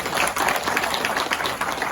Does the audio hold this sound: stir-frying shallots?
no